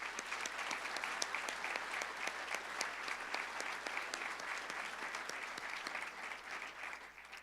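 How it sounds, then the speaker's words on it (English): An audience at a university nursing pinning ceremony claps steadily for several seconds, a dense, even round of applause that tapers slightly near the end. "Please join me in giving these new inductees a round of applause."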